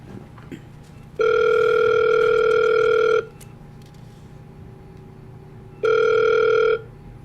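A telephone line sounds a steady dial-tone-like ring in two loud bursts, a long one of about two seconds and then a shorter one after a pause, with no talk in the clip.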